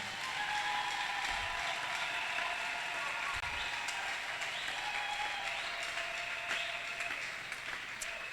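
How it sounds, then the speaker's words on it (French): A church congregation at a Bible seminar applauds the Lord with steady, dense clapping that holds for several seconds, along with cheering voices and some music. "On acclame très fort le Seigneur."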